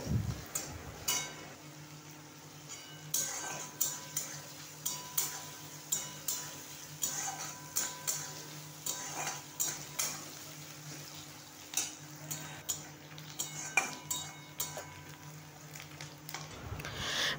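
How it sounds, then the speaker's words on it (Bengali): Chopped onions fry in oil for a Bengali parwal (pointed gourd) curry, sizzling steadily while a spatula stirs and scrapes the pan in repeated strokes, close and moderately loud with no voices. "পেঁয়াজটা ভালো করে সুগন্ধ বেরোনো পর্যন্ত ভেজে নেব, নাড়তে নাড়তে ভেজে নেব।"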